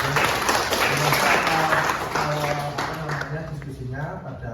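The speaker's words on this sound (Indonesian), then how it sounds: "tepuk tangan buat teman-teman semua." A crowd applauds steadily at the end of a university lecture session, the clapping gradually thinning out toward the end.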